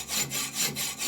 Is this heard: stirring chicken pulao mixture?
no